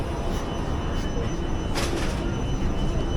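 Warsaw metro train, one of the older first-generation models, rumbling steadily as it runs, with a continuous broad roar, faint high whine and a brief louder burst partway through.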